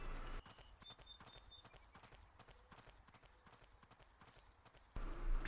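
A horse cantering in the video game Ecos: La Brea, a quick steady patter of soft hoofbeats under ambient game sound, moderately close and consistent for several seconds.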